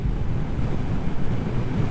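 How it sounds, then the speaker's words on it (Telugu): Cold wind rushes steadily past a motorcycle rider on the road from Hyderabad to Ladakh, a loud continuous low roar buffeting the microphone with no speech. "సో చాలా అంటే చాలా చల్లగా వస్తుంది గాలి, మంచిగా అనిపిస్తుంది అసలు రైడ్ చేస్తుంటే"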